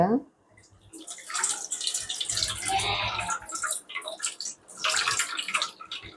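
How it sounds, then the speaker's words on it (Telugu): Soaked tamarind for pulihora is squeezed by hand and the pulp filtered, giving close, wet squelching and sloshing water sounds in uneven bursts. "మనం ముందుగా నానబెట్టుకున్న చింతపండుని ఇలా ఒకసారి పిసుక్కొని దీన్ని ఫిల్టర్ చేసుకోండి."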